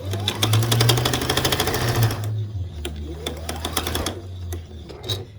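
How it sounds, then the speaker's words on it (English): Close, loud sewing machine stitching rows of a quilt block together, a steady rapid needle chatter for about two seconds, then slower intermittent stitching with brief pauses, no talking. "I'm just going to flip it over and sew them together."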